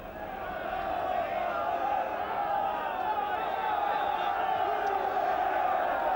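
A football stadium crowd at a Lincoln City v Millwall match sends up a broad, steady wash of applause and cheering as the second half kicks off, distant and sustained throughout.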